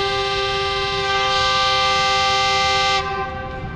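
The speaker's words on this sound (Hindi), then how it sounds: "तो फर्स्ट डिपार्टिंग विसल हो गया है" A Pak Business Express train sounds its horn for departure, a loud, sustained harmonic blast lasting about three seconds before it cuts off and leaves a fading hum. No one speaks.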